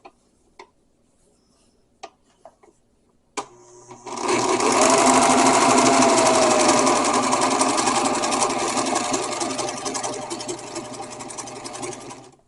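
A sewing machine stitches fabric for a bread bag, preceded by a few isolated clicks, then running at a steady, loud, fast whirring hum for about eight seconds before stopping.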